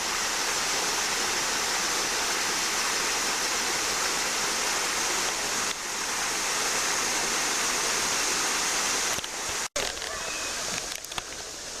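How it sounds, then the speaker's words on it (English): At Natural Bridge, Virginia, a babbling waterfall roars in a steady, dense rush of water close by, continuing without pause for the whole stretch. "Here's a little moment of soothing waterfall babbling."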